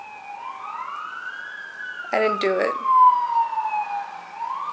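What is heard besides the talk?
emergency vehicle sirens going off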